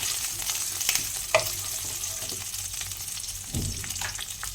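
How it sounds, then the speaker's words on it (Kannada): Garlic fries in a pan for Mulabagilu dosa chutney powder, giving a soft, steady sizzle with occasional stirring scrapes and light clinks. It is close but fairly quiet, with no talking. "ಇದನ್ನು ನಾವು ಇವಾಗ ಚೆನ್ನಾಗಿ ಫ್ರೈ ಮಾಡ್ಕೋಣ ಬೆಳ್ಳುಳ್ಳಿ ಇರ್ತಕ್ಕಂಥ ಹಸಿ ಸ್ಮೆಲ್ಲೆಲ್ಲ ಹೋಗಬೇಕು"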